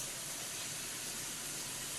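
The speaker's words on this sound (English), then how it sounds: "I don't know if you can hear that sizzle, but it sounds great" Green beans blister in a hot pan beside sautéed tilapia, giving a continuous, even, hissing sizzle that stays steady and fairly quiet throughout with no voices.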